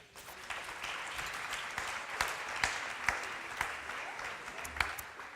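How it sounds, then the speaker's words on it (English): Applause from an audience at a panel discussion on vocational education, steady dense clapping with a few sharper claps standing out, moderately close and continuous throughout. "A big applause for you."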